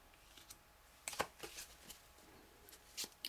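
Tarot cards being shuffled by hand, a few soft riffles and flicks in quick bursts, faint and close against a quiet room.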